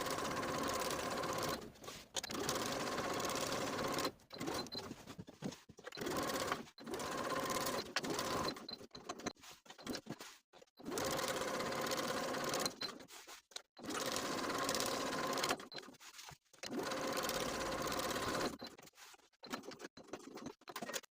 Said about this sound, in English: Then I'll top stitch the pocket in place, edge stitching close to the side and bottom edges.